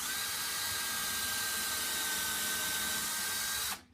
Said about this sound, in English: so we'll just start by drilling this first hole that goes right here